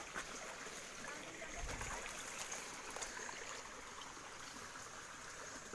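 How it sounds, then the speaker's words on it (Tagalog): Small waterfall feeding a flowing stream outdoors, a quiet, steady broadband rush of water continuing evenly throughout with a few faint splashes. "May parang talon dito sa amin."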